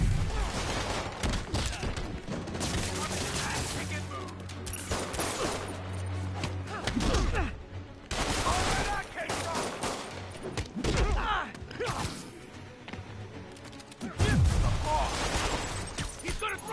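Video game gunfire: bursts of rapid shots and heavy impacts, loud and close, repeating in dense clusters for the whole stretch, with excited voices talking over the shooting.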